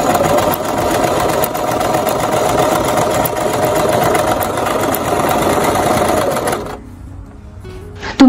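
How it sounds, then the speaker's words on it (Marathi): Domestic sewing machine running steadily and loudly as it stitches a zigzag line on fabric, a dense mechanical whirr for several seconds that then stops abruptly. "फक्त एक झिगझॅग लाईन तयार होतीये कापडावर, पिको झालेला दिसत नाहीये"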